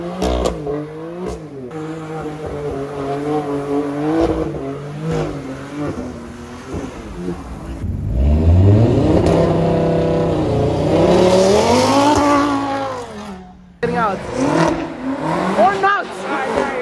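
A Ford Raptor truck pulls up in heavy rain, its engine revving and rising in pitch as it approaches, with people talking over the engine throughout.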